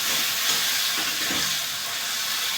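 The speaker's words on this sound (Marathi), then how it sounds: "आता गॅस मोठा करते मी." A gas stove burner turned up high gives a steady, close, fairly loud broadband hiss that holds evenly for a few seconds without any talking.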